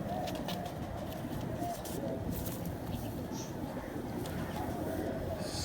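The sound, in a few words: pigeons cooing in a loft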